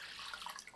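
Water poured into a cooking pan in a home kitchen, a short bright splashing stream that runs steadily and then stops abruptly, with no voices.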